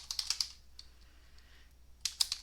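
Quick bursts of crisp computer keyboard keystrokes, a cluster of four close clicks at the start, a few faint taps in the middle and another short flurry at the end.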